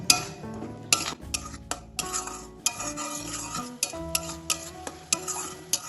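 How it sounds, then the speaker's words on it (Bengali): Spice paste is stirred and fried in hot oil for a home-style paneer and mixed vegetable curry, with repeated scraping strokes of a spoon against the pan over a low sizzle, close and fairly loud. "মশলাটা ভালোভাবে তেলের সাথে কষিয়ে নেব।"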